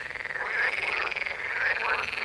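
A frog croaks in a steady run of rapid, rasping pulses, loud and close with no other sounds around it.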